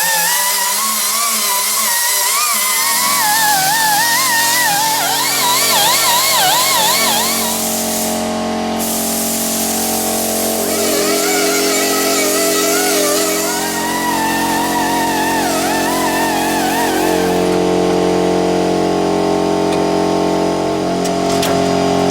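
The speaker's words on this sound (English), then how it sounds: "I think I'll just do with some compressed air in my angle die grinder" A pneumatic angle die grinder driven by compressed air grinding metal gives a loud, continuous high whine with a wavering pitch that runs steadily for over twenty seconds.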